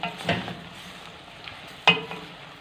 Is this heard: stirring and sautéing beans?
yes